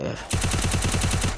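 Rapid automatic gunfire in a battle royale video game, a dense rhythmic burst of shots firing steadily and loudly for over a second, following a brief quieter moment.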